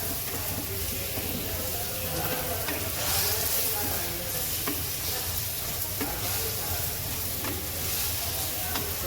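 Spices roast and sizzle in a hot pan with a steady, dense frying hiss, overlaid by intermittent scraping as they are stirred.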